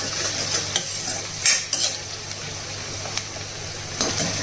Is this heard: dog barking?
no